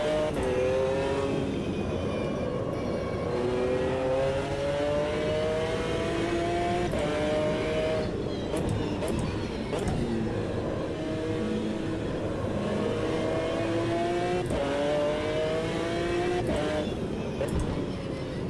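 GT1 race car engine in Automobilista 2, revving loudly through repeated rising gear pulls with brief drops at the shifts, a continuous close in-car roar.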